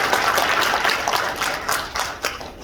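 Lecture audience applauding in a meeting hall during a talk on Democratic Party identity and political reform, a dense, steady wash of many hands clapping throughout with a few louder bursts, moderately distant.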